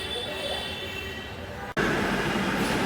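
A Dhaka metro train at TSC station gives a steady rumble and whine that breaks off abruptly, then returns louder and broader as the train comes nearer.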